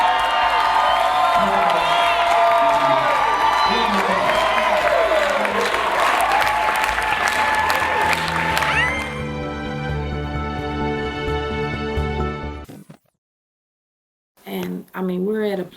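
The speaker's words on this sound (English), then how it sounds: "Round of applause." A crowd claps, cheers and whoops loudly at a celebration event in Miami for about nine seconds, then the cheering gives way to a sustained loud tone before a sudden silence and a brief return of sound.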